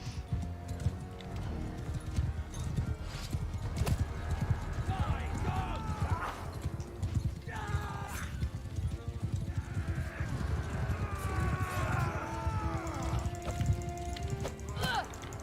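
Horse hooves gallop in a steady, rapid clip-clop rhythm in the video game Mount and Blade II: Bannerlord, with occasional neighs and battle noise mixed in, continuing without pause.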